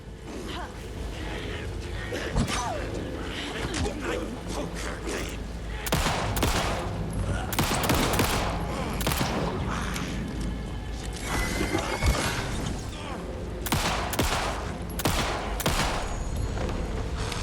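Rapid volleys of gunfire ring out in Alan Wake 2, bursts repeating loud and close over a dense game mix with a player's voice now and then.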